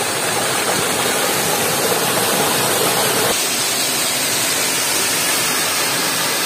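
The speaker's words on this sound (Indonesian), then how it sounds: "Itu dia air terjunnya." A waterfall about ten metres high at Way Bernung, pouring into a cold, clear pool. It makes a loud, steady broadband rush that stays constant throughout, with no voices over it.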